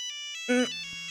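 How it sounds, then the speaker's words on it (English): Phone ringtone in a dating sim game, a short electronic melodic ring with bright tones, near and clear, briefly overlaid by a louder chime burst mid-clip. "a loud ring startles you"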